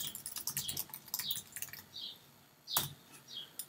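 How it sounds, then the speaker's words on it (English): Irregular bursts of keyboard typing, close and crisp, with quick clusters of keystrokes and short pauses between them. "And then you can just start typing your essay in here."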